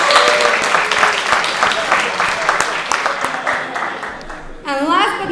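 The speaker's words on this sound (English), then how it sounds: "For a round of applause for the whole team of judges." A crowd at the Skopje Open 2015 tournament final claps for the judges in sustained, dense applause, with a voice speaking over the room near the end.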